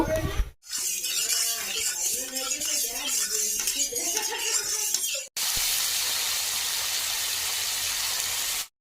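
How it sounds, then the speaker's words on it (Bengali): Fish coated in salt and turmeric frying in hot mustard oil, giving a dense crackling sizzle that runs steadily for several seconds after a few clattering clinks and a brief low voice at the start. "মাছটা লবণ হলুদ মাখিয়ে রেখেছিলাম তো এবার ভেজে নেব"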